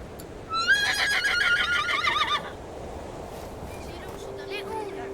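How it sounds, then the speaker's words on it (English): A single horse gives a loud, quavering neigh close by, followed by quieter rustling and faint scattered sounds. "The horse, a fiery, shy and untamable animal, now stood before Ike"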